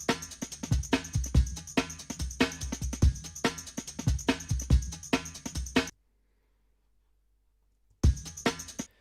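Looped drum break playing in Ableton Live for a jungle track, with loud, punchy repeating kicks, snares and bright cymbals for about six seconds, then a two-second silence before the break starts again.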